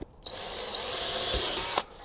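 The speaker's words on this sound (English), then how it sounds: "Now I got 2 drilled" A power drill bores holes with an 11/64 bit during network upgrade prep, giving a steady, loud whine that starts abruptly, holds for about a second and a half, then stops cleanly with nobody talking.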